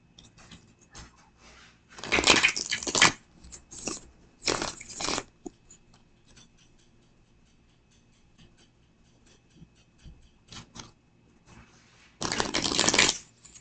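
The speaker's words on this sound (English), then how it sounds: "Hold the shuffle." Bursts of playing card shuffling, a riffle around two seconds in, a couple of shorter ones after, and a last loud riffle near the end, with quiet gaps between.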